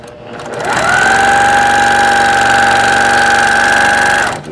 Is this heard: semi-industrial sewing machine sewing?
yes